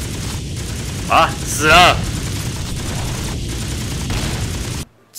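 Machine gun fire in the Beast Battle Simulator video game, a dense steady rattle of rapid shots with a few louder booms, while a man exclaims over it before a sudden cut to near silence.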